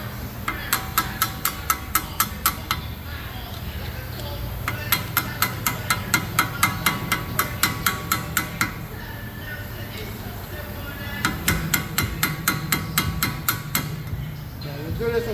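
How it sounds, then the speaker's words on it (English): A hammer striking a flat tool on a 2018 Ford Transit 350 wheel hub, three bursts of rapid, evenly spaced metallic taps separated by pauses, with someone talking quietly in between. "So I'm gonna have to use the flat and the hammer."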